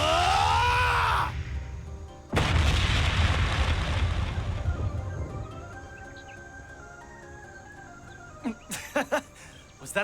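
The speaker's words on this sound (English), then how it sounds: "Was that the Ungula barrage?" The Ungula barrage in the game Trails Beyond the Horizon erupts in heavy booming blasts with a deep rumbling roar that slowly fades, followed by a few sharp bursts near the end.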